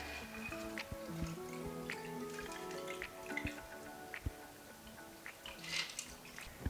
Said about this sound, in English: And I'm gonna strain it.